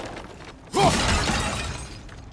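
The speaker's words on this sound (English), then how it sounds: "I'm smashing through things for fun and profit." Objects smashed and broken in God of War Ragnarok: a sudden loud crash with cracking debris bursts in near the start, then a rough, crumbling tail settles gradually with no one talking.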